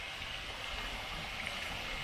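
A swollen monsoon river in Konkan rushes along in a steady, unbroken wash of flowing water, moderately distant and fairly faint, with no talking.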